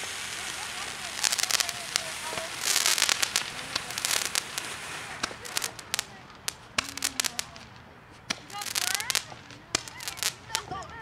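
Fireworks explode at Lawrence Park East on Victoria Day 2021 in rapid crackling bursts, sharp bangs and whistling rockets, loud and close, while people talk and call out between the blasts.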